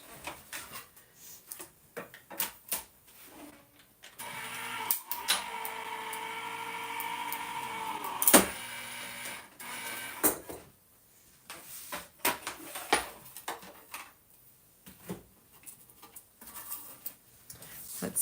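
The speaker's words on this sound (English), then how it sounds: "Now I'm going to run it through my machine" Card stock running through a crafting machine: a steady motor whir lasts several seconds, surrounded by clicks, taps and rustling as the card is handled.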